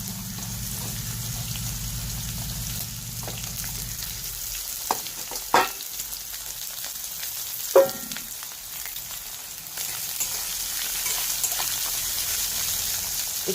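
Bottle gourd pieces frying in a pan, a soft steady sizzle with a few clanks and stirring knocks, fairly quiet and close.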